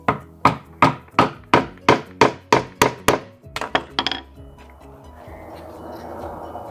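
A hammer strikes an awl about ten times in a steady rhythm, punching a hole in a plastic bottle cap resting on a piece of wood over a workbench, with a few quicker taps before low shuffling handling noise.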